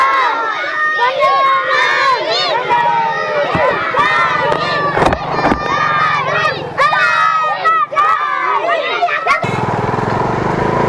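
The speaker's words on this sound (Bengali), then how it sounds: "এখানে লোকাল স্কুলের দেখুন মিছিল বেরিয়েছে।" A local school procession of children chants and shouts as it moves through a village, with many young voices rising and falling together close by, alongside a low motor drone and a voice speaking over the crowd.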